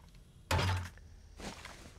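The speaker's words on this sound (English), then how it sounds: "Get the old turret buddy out." A turret is placed in the video game 7 Days to Die, giving a sudden dull thunk followed by a softer second knock about a second later.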